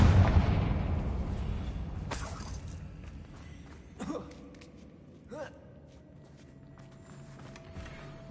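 Confringo fire-blast spell explosions in the Hogwarts Legacy video game: a big booming blast that fades slowly, followed by a few sharper impact bursts with light crackle, separated by quieter stretches.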